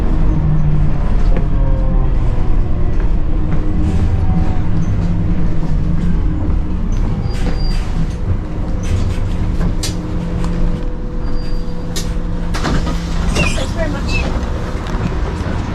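Inside a moving bus, a constant rumbling engine and road noise mixes with rattles and knocks from the cabin, steady and close the whole time.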